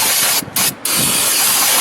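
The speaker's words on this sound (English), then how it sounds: "I'm going to get a little bit of brake cleaner here. Just kind of spray this and clean it up a little bit here." Brake cleaner sprayed onto the front wheel hub of a 2001 Buick LeSabre: a steady, loud hiss broken by two short pauses between bursts, with no talking.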